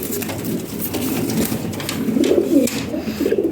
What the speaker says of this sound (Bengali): দেখ একদম নতুন কবুতর